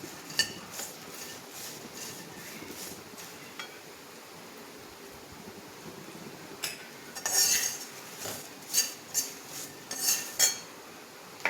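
Onion and garlic dry roast in a pan alongside bay leaf, with a utensil scraping and clinking against the metal in a run of sharp, irregular strokes that grow more frequent toward the end, over a quiet background.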